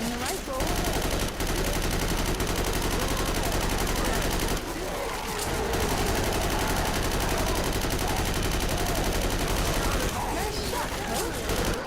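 Rifle gunfire in a survival shooter game: dense, sustained volleys of shots rattling almost continuously for about twelve seconds, loud and close, with brief gaps and a voice talking partly underneath.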